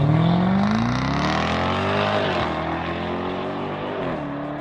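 A Jaguar F-Type SVR accelerates hard in VMAX mode, its loud exhaust note climbing steeply in pitch, dropping briefly at each gear change and then rising again, heard close and unbroken.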